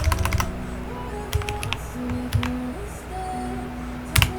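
Keys clatter as a git command is typed on a computer keyboard, in short bursts of clicks separated by pauses, close and clear over a steady background hum.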